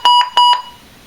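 Philips Lifeline alert system dialing its welcome call: four loud, close electronic tones in two paired bursts, each pair a long steady tone followed by a shorter one, then quiet.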